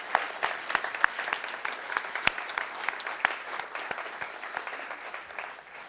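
An audience at a lecture event applauds for the conference staff, a steady patter of many hands with sharper individual claps standing out, fairly even in volume for several seconds.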